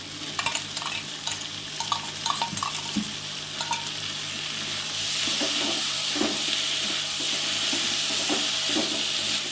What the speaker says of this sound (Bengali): মশলাটা এবার ভালো করে কষিয়ে নেব